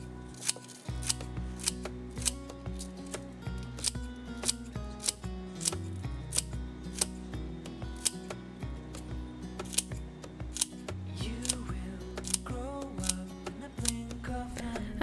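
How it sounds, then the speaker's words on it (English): A knife chops green onions on a cutting board in quick, regular strokes. The clicks are close and crisp, and a steady musical backing plays underneath. "we're going to start cutting up some green onions"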